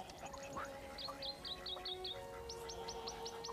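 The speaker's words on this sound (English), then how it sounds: "A shining cuckoo." A shining cuckoo gives repeated clear, upslurred whistling chirps in two series of about six notes each, loud and close over a faint steady background hum.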